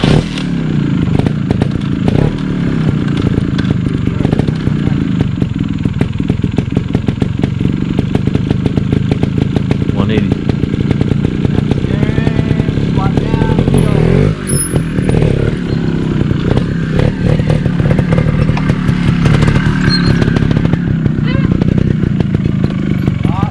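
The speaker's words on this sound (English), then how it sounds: "And that way you can practice starting your bike." A dirt bike motorcycle engine runs loud and close the whole time, revving and buzzing with rough mechanical clatter, and brief thumps mid-way.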